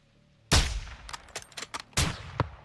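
Sniper rifle shots in the Call of Duty Modern Warfare 2 campaign: two loud, sharp reports about a second and a half apart, each trailing into a long echoing decay, with smaller mechanical clicks and clatter between them.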